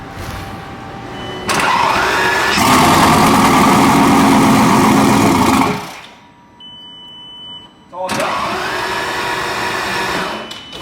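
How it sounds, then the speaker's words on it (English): Flood-damaged Bugatti Veyron engine cranking and idling loudly up close, running in two bursts separated by a short quiet gap where a thin electronic beep sounds, with a whining mechanical tone over the rumble. "I need this car to idle."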